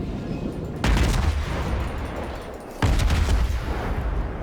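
Two heavy naval gun salvos from the rear turrets of a Cleveland cruiser in World of Warships, each a deep booming blast with rumbling decay, about two seconds apart over constant engine and sea ambience.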